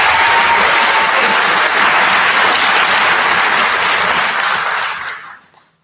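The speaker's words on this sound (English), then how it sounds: "Let's give her one more round of applause." An audience at a symphonette concert applauds a graduating student with sustained, dense clapping throughout that fades out near the end.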